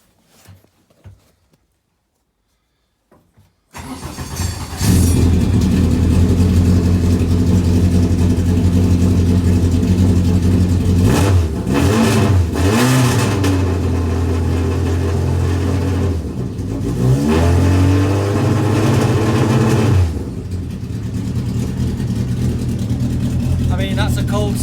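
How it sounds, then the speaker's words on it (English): A car engine fitted with a modified oil pump and running high oil pressure cold-starts after a few seconds of near silence, then idles loudly up close with two sharp revs in the middle and a steady idle afterward. "That's a cold start. Pressure is lower, which still increases with revs."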